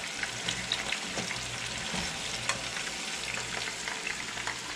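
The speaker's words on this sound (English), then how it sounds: "I don't fry with panko enough to know how long to cook these" Panko-breaded dryad's saddle (pheasant back) mushrooms fry in oil, a steady, fairly quiet crackling sizzle with small pops scattered throughout and no speech.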